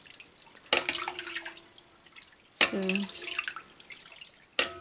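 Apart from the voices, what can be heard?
water being poured into curds while making Gouda sheep cheese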